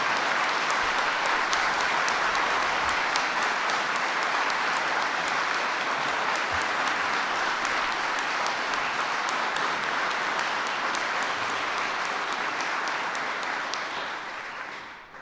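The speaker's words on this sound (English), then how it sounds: "Can we give a round of applause to the hardworking city employees who raise the bar every day?" A crowd at a city budget address gives sustained applause for city employees, a steady, full roar of clapping for about fifteen seconds that tapers off at the end.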